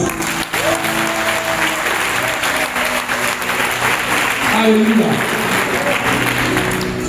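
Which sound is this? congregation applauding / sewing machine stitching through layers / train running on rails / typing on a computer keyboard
congregation applauding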